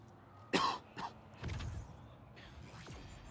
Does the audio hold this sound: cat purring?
no